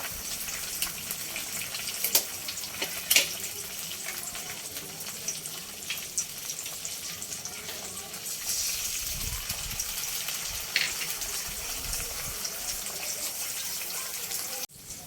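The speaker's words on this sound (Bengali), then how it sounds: "ওই তেলের মধ্যেই আর তেল দেবো না, দুটো ডিম দিয়ে দেবো আমি এতে।" Two eggs fry in oil in a pan over a low gas flame. A soft, steady sizzling hiss runs throughout, faint and close, with a few small clicks and knocks of cookware.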